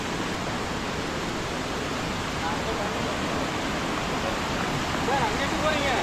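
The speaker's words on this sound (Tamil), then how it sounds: "பாருங்கள் தண்ணி எப்படி போகுது பாருங்கள், நல்லா ஃபோர்ஸாகவே போகிறதுங்க" Thirumoorthi Falls roaring as water flows forcefully, a dense, steady broadband rush that stays loud and unbroken throughout, with faint chirps rising over it near the end.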